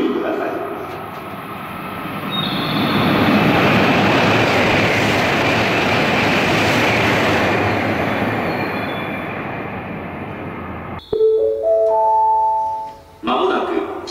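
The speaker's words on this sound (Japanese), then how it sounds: "まもなく11番乗り場、列車が通過します。" A Kyushu Shinkansen train roars through Shin-Tamana station at speed past platform 11, a loud sustained rush with wheel noise that swells and fades, followed by a short chime and announcement-like tones.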